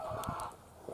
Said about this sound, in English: I think this chicken must be in here laying an egg, man. He's going nuts.